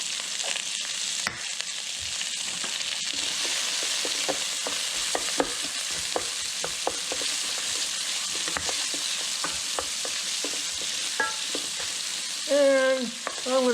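Onions sizzle in a pan with salt and black pepper, a steady, soft frying hiss broken by frequent scraping and clicking from stirring, with a brief faint voice near the end.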